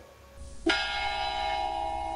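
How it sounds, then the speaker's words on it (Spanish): A single church bell tolls for a death, striking loudly and ringing on, its ringing hum sustaining steadily after the strike. "Ya se oyen las campanas, parece que doblan a muerto."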